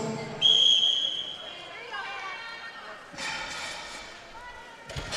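A referee's sharp whistle blast starts a strongwoman deadlift at a world championship. The short, piercing tone is followed by crowd noise and commentary voices.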